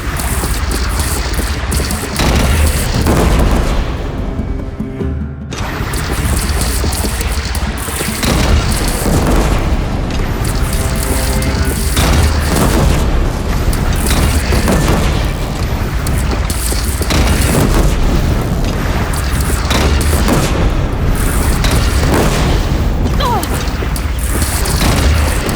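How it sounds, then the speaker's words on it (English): Cannon fire and explosions in the video game Horizon Zero Dawn Remastered, with loud repeated booms and crashing impacts running throughout, layered with battle noise and shouting voices. "They only have one cannon!"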